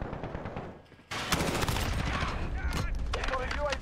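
Dense gunfire in a Modern Warfare military shooter game, bursts of automatic rifle and machine-gun fire that start abruptly after a quieter moment and keep crackling loudly, with radio-style voices mixed in.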